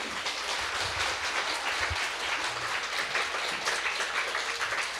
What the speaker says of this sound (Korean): 우리 격려 박수 한번 합시다